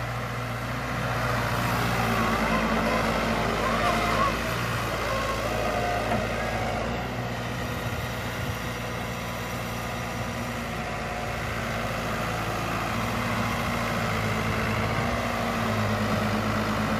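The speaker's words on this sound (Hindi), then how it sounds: "देखो कितनी हाई स्पीड ट्रैक्टर आ रहा भाई, वो बैक गियर में स्पीड देखो ट्रैक्टर की।" A New Holland 7500 tractor hauling a heavy eight-foot desi jatra in a farm pit, its diesel engine droning steadily and close for the full stretch, with low rumbling harmonics and no talk.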